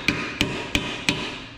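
A heavy metal ratchet is used like a hammer against a part on a modified Mazda Miata, giving four sharp, evenly spaced metallic whacks with ringing tails, close and loud with no voices.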